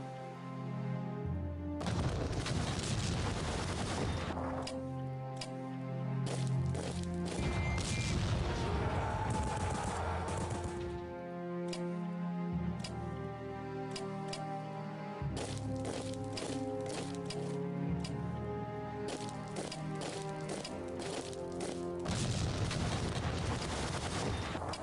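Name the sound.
artillery fire in video game Strategic Command: World War I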